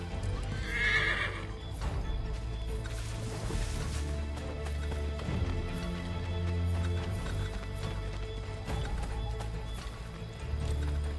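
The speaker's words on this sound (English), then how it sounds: "Get back on the horse, Connor." A horse in the video game Assassin's Creed III Remastered whinnies loudly and close, then its hooves clip-clop steadily under a continuous musical score and ambient game sound.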